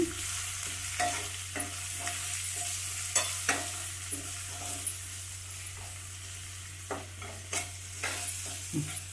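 A spoon stirs turmeric and spice powder, curry leaves and salt together in a pan for a broad bean (chikkadi kai) palya, making repeated scraping strokes over a faint steady sizzle, with no voices.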